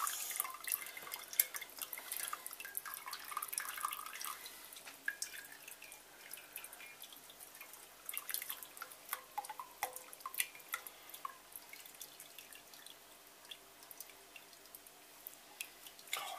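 Liquid drains and drips during home brewing of Coopers Australian Pale Ale, with faint, irregular drips and trickles over a quiet background and no talk.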